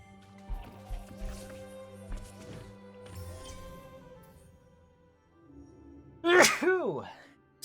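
A person sneezes once, loud and close, after a stretch of game music and soft splashing effects.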